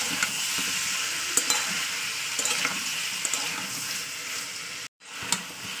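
Chicken masala with ginger and garlic stir-fried in a pan: a steady, close, loud sizzle with scattered scraping stirs, cut by a brief silence near the end before the frying resumes.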